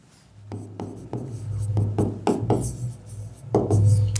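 A pen scratches across a paper map of the oceans in a sixth-grade geography lesson, with a series of short strokes close up over a low hum.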